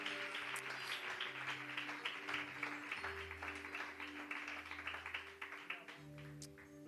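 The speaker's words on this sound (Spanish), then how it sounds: "¿Cuántos reciben esta palabra con un fuerte aplauso?" A church congregation claps at a Spanish-language service, a dense wash of hand claps that carries steadily across the clip under sustained music or organ-like tones.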